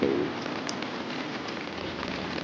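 Rain falls steadily in Kyoto, a dense, even wash of patter heard outdoors without pauses, moderately loud and close.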